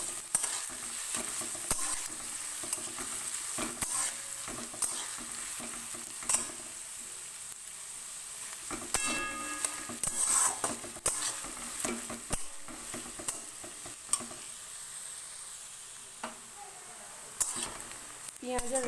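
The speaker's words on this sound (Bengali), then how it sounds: "এবার আমি পেঁয়াজ আর রসুনটাকে ভালো করে ভেজে নেব।" Onions and garlic fry in a pan with a soft, steady sizzle, broken by frequent scraping and clinking of a spatula stirring against the pan, with a voice talking in places.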